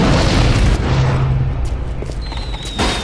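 A loud, close grenade blast in Bioshock 2, a booming explosion followed by a rumbling decay and debris noise that fills the whole moment.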